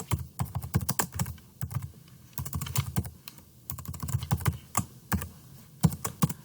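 Rapid, uneven keystrokes on a computer keyboard while entering project details in Microsoft Visual Studio, close and crisp, continuing steadily in short bursts with brief pauses and no talking.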